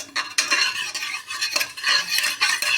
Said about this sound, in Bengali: ফোড়নটা হয়ে গেলে গোটা গরম মশলাগুলো ফুটে গেছে